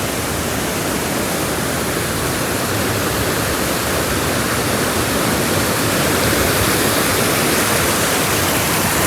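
Fast-flowing mountain river water in Kashmir rushes in a steady, loud, continuous roar with no pauses, close by and alone without any voices.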